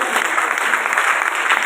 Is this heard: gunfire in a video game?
no